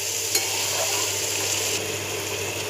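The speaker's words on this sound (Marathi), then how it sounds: "कांदा चांगला भाजून घ्यायचा." Onion fries in a spoon or two of oil in a kadhai wok and is stirred now and then. It gives a loud, close, steady sizzle with occasional scraping of the spoon and no talk over it.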